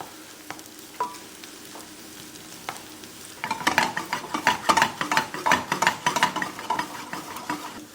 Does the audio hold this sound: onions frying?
yes